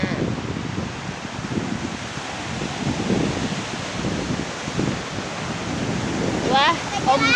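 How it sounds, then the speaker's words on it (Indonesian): Ocean waves wash ashore at rocky Pariaman beach near Padang, West Sumatra, in a steady rushing surf. Wind buffets the microphone throughout, and a voice comes in briefly near the end. "Wah, ombaknya"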